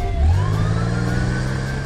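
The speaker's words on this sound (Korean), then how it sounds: "그때 경찰차가 나타났어요." A cartoon police car from a Pororo paper-play episode revs and pulls away in a chase, its engine rising in pitch as it accelerates, loud and close with no talking.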